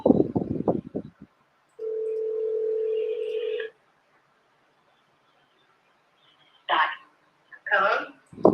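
A phone ringing with an incoming call gives one steady electronic tone burst of about two seconds, set between short stretches of talk in a quiet room.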